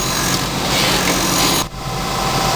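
A surface grinding machine works on guillotine knives with a steady, hissing, broadband grind close by, briefly dipping for a moment before resuming, with no talk.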